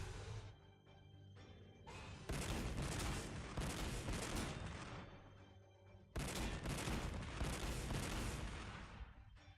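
Battlefield gunfire from units in the Warhammer 40,000 Sanctus Reach strategy game: dense, loud volleys in two sustained bursts, each starting abruptly and tapering off, with no talk over it.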